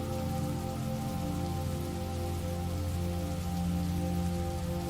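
Steady rain patters on a surface, an even, continuous wash of drops heard alone with a faint low rumble underneath.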